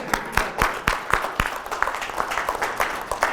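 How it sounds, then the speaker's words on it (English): Applause for an employee at a business gathering, a small group clapping with distinct, uneven individual claps, fairly close. "Let's give Ellen an applause."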